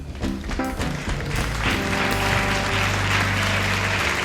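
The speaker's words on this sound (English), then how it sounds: "I see a guy clapping right now." Audience applause with scattered taps and thuds rises to a steady, loud wash of clapping after a brief musical opening, filling the room without any talk.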